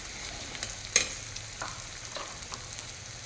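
Spices fry in a pan with chicken masala under a faint, low sizzle. A single clink and a few soft stirring scrapes sound close by, quiet and unhurried.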